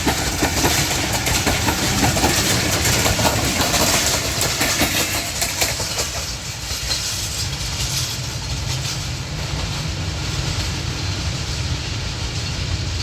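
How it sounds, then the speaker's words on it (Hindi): The Allama Iqbal Express on the Lahore to Sialkot line passes at speed, a loud steady roar of wheels and carriages with rhythmic clatter that fades slightly toward the end, heard close and without voices. "और अच्छी खासी स्पीड पकड़ ली है जी इलामा इकबाल एक्सप्रेस ने।"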